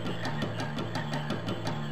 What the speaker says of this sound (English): And look, there's already more frogs.